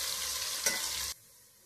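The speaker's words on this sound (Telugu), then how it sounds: "అయితే బాగా వేగనిద్దామండి." Vegetables for pulao sizzle loudly in a hot pan as they're stirred, a steady broadband hiss with one scraping stroke midway, then the frying cuts off abruptly to near silence.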